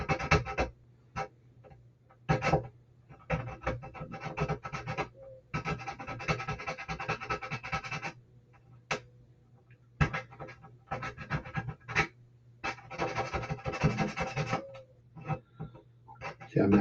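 A file rasps back and forth on a plastic part of an Eduard USS Arizona model ship. Bursts of scratchy strokes come in short runs of a few seconds, separated by quiet pauses, close and fairly soft.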